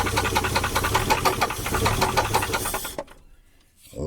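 An old engine cranks over and over with a rapid, steady rhythmic churn as it tries to start, loud and close, then cuts off abruptly into near silence before a faint sound returns.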